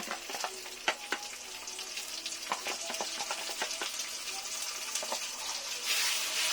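Garlic and cumin paste frying for khichuri, a bright steady sizzle with frequent scraping taps of a spatula stirring the pan, the hiss swelling louder near the end.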